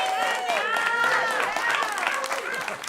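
A studio audience claps and cheers to welcome a new player to an improv comedy show. The applause is steady and lively, and some voices are heard in the crowd.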